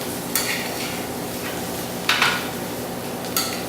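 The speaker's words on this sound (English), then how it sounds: "You've got to keep moving the mushrooms around, that way it coats them all." Mushrooms sautéing in oil in a pan are stirred, with three sharp utensil clatters against the pan standing out over a steady, soft sizzle.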